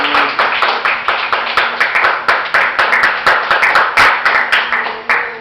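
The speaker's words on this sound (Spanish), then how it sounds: "Denle un aplauso al Señor." A church congregation at a Christian sermon claps in a brisk, even rhythm, loud and close, the sharp slaps carrying on steadily for several seconds.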